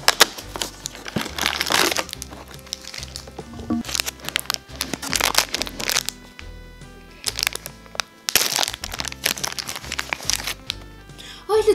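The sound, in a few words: opening an advent calendar box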